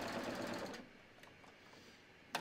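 A sewing machine stitches a tee shirt shoulder seam in a short loud burst of rapid needle strokes, then stops, leaving a quiet room with a few faint clicks.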